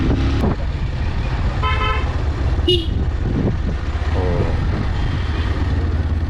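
Road traffic jam at the entrance to Malpe Beach, with cars, buses and bikes packed together: a steady engine rumble fills the scene while several car horns honk in short bursts, some near and loud, others farther off.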